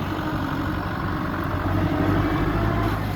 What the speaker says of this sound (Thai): โชคดีกลัวรถไถค่ะ